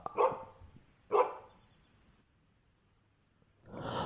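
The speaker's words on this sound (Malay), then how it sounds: "rusa terdengar seekor anjing menyalak" Two loud dog barks about a second apart, then a pause and a third bark starting near the end, fairly close and without talk.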